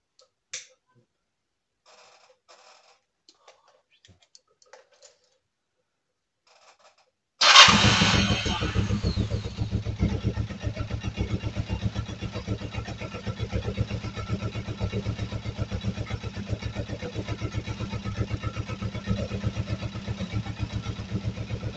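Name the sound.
Kawasaki ER-5 motorcycle engine starting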